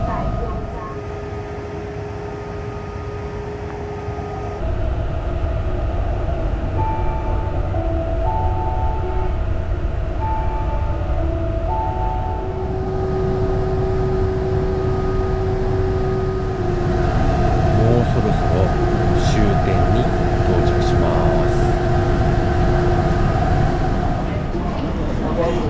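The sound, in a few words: Taiwan high-speed rail train riding into Taichung station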